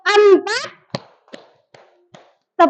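Hand claps in a classroom ice-breaking counting game led by a teacher: a voice speaks first, then four quick, crisp claps follow at a steady beat, lighter than the voice, before talking resumes.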